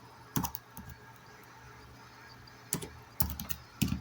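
Someone types on a computer keyboard in short, quiet bursts of clicky keystrokes separated by pauses, heard close against a faint background hum.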